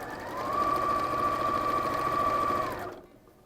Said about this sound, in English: So first of all, I'm going to sew the triangle together.